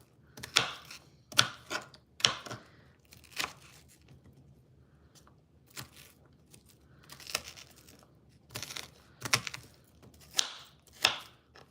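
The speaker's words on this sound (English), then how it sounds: "You can chop it up finely like I'm doing" A knife chops onion finely on a board in a kitchen, making crisp crunchy cuts that come in short bursts of strokes with pauses between them, close and fairly loud, with no talking.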